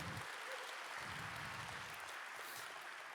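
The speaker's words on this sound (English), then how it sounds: "we're going to practice that with one round of applause for our speakers this morning" Applause from a conference audience at a circular-economy forum, a steady moderate wash of many hands clapping for the morning's speakers, heard from a distance with faint talk underneath.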